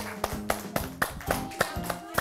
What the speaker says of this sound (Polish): Dziękujemy bardzo, wielkie brawa!